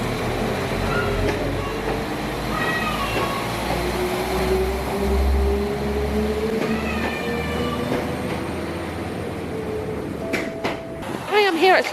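A passenger train runs along the North Wales Coast Line in heavy rain, a steady low rumble and rolling clatter heard from inside a crowded carriage, with faint squeals and scattered background sounds, ending in a few louder clanks.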